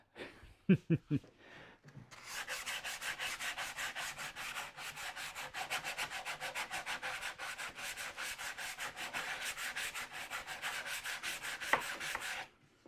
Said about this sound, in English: now a little bit of sandpaper